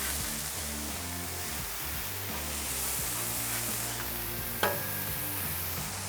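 A smash burger patty sizzles loudly and steadily on a hot griddle right after being flipped, with a constant hiss and crackle and one brief scrape partway through.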